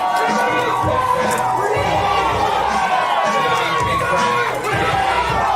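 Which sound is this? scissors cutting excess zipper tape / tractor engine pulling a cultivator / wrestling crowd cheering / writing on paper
wrestling crowd cheering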